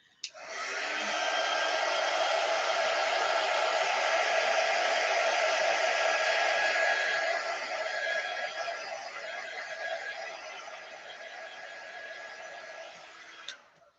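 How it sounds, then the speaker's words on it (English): A hair dryer blows steadily on glitter-coated silk screen fabric for a craft decoration, a close, loud broadband whoosh that starts abruptly, holds for several seconds, eases slightly and then clicks off. "I'm just going to dry it with my dryer for a quick second to make sure that it is in fact dry."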